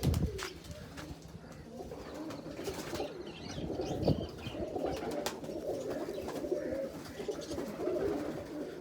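Pigeons coo repeatedly in low, throaty bursts, layered with other bird calls and a steady outdoor background.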